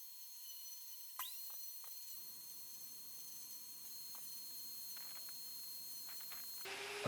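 A power carving unit sanding a small wooden toy gives a thin, high-pitched whine that holds steady with brief scratchy bursts as the wood is worked, alone and fairly quiet.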